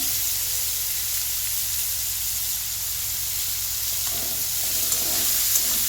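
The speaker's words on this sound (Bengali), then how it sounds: "পেঁয়াজগুলো এবার লাল বাদামি ব্রাউন করে ভেজে দেবো।" Onions frying in oil in a kadai give off a steady, soft sizzle and hiss that holds evenly throughout at a moderate level, with no voices over it.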